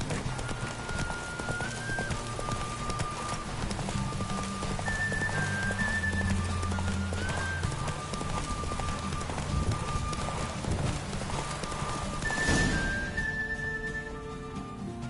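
In The Witcher 3: Wild Hunt, a horse gallops with a steady, rapid clip-clop of hooves on the ground, close and continuous under game music, with a brief swell near the end.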